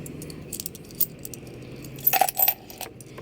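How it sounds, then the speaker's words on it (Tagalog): Coins handled and jingled by hand after a ride in the Philippines, small metallic clinks and a brief cluster of rattling coin sounds, close and light over faint background noise. "Yung barya na lang kukunin ko."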